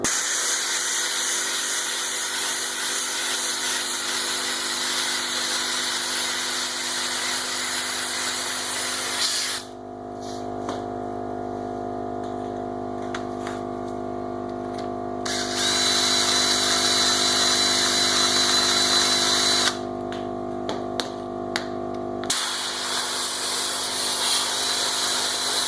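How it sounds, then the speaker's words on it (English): An air compressor runs steadily to power an air-operated vacuum at a tire changer setup, a loud constant hiss and drone that shifts in tone partway through, with intermittent changes as air is drawn. "I'll wait for the compressor to stop"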